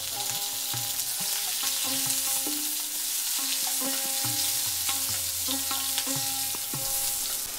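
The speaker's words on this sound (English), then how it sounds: "Now I will add the eggplant and fry it until it is tender." Eggplant and potatoes frying in mustard oil, a steady close sizzle with occasional stirring scrapes and clinks throughout, no voices.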